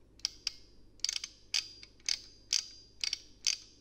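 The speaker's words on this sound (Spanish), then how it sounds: "Lo primero que haremos será sacar los tornillos que aguantan la pinza de frenos" A socket wrench working loose the bolts holding a car's brake caliper: a quiet series of sharp metallic ratchet clicks in short irregular bursts, close up, with no talking.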